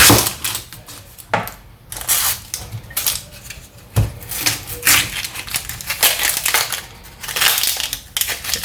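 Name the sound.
knife chopping onion on a board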